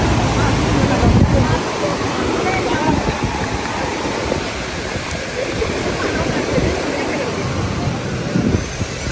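Floodwater roars over the Iranaimadu reservoir spillway in Kilinochchi, a dense, continuous rushing wash that stays loud and steady throughout, with wind buffeting the microphone at the start.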